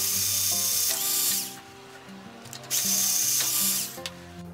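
Power drill boring holes through a PVC tube for a homemade light-bulb changer, two loud bursts of whirring drilling separated by a quieter pause, close up with no talking.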